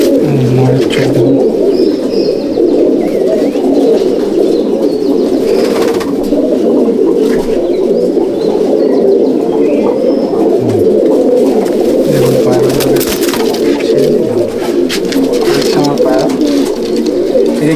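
Pigeons in a Madrasi loft coo steadily throughout, a dense layered chorus of low throaty calls close by, with someone talking over them at times.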